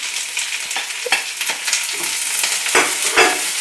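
Shallots fry in a pan with grated coconut, giving a steady loud sizzle. Scraping stirs break through it irregularly, and no one talks.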